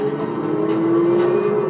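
A Ford Mustang GTD and Ford GT race on a track, engines droning at a steady sustained pitch, heard from a distance as a continuous whine without talk.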